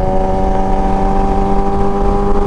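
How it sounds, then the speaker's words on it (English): Loud, steady exhaust drone from a Kawasaki ZX10RR motorcycle, a dense, continuous engine tone held close and unbroken with no talk. "This is as loud as my SC Project exhaust"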